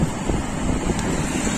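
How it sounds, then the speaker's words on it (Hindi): Steady wind rushes over the microphone of a rider on a moving motorbike, a constant broadband roar with no voices. "यहाँ पे तो मस्त अभी पवन आ रहा है, बाइक पे हूँ ना इसीलिए"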